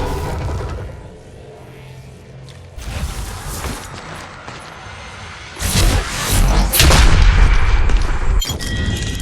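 Bursts of gunfire from the Apex Legends Mobile shooter game ring out amid game effects, quieter at first and then louder, denser and more continuous in the later half.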